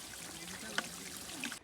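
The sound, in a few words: mountain spring water trickling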